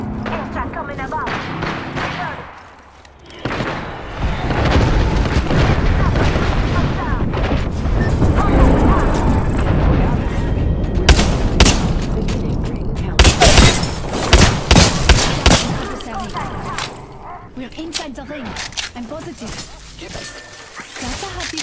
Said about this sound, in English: Airstrike coming above.